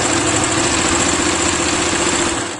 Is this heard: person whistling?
no